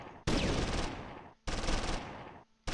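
Two long, loud bursts of rapid machine-gun fire from the World War II strategy game Close Combat III crackle up close, separated by a short gap, with a third burst just starting at the end.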